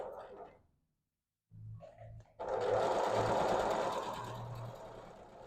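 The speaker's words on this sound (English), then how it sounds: "and I'll just keep on sewing" A sewing machine stitches a ruffled fabric napkin, its steady close whirring run starting after a short pause and continuing loud without talk.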